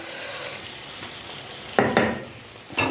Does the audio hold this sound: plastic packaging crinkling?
no